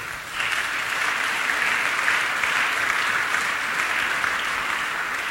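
A church congregation claps in sustained, even applause that starts abruptly and fills the room at moderate loudness, with no voices over it.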